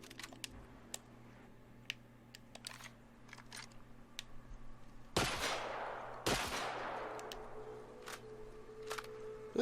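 Two loud, sharp blasts of a shotgun firing in the video game The Outer Worlds, a few seconds apart, each with a ringing tail, standing out over a quieter run of small clicks and a low steady hum.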